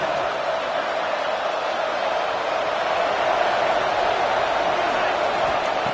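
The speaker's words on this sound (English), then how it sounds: "Guns up, and so is the noise. The crowd electric, trying to help Tech on this 3rd down." Texas Tech football stadium crowd roaring on a third down, a steady, dense wall of cheering and noise that stays loud and unbroken throughout.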